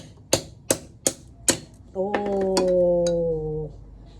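Four sharp, hard knocks of a hammer striking a frozen crab, evenly spaced, followed by a sustained voice-like tonal sound, recorded up close.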